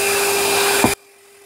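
Goacheng vacuum cleaner running steadily at close range while cleaning a car interior, a continuous loud whine and rush with a brief bump near the end before the motor cuts off abruptly into near silence.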